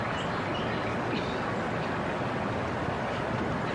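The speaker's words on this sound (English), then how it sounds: "I think a wind gust just made him back out of that." Wind blows across an open golf course during the final round of the Masters, a steady broadband rushing roar that fills the whole moment with no distinct breaks.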